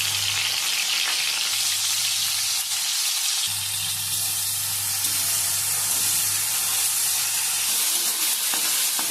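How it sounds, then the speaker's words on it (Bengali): Chopped tomatoes frying in hot oil for a flat-bean fry, giving a steady, loud, close sizzle that continues throughout with a faint low hum underneath. "তেলের ওপর দিয়ে দিচ্ছি কেটে রাখা টমেটো।"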